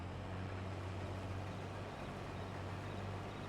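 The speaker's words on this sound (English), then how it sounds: "Oh yeah, start the engine." Combine harvester engine idling in Farming Simulator 22, a steady low mechanical drone with a constant hum, unchanging and continuous throughout, no voices.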